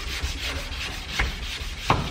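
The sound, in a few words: sanding car paint by hand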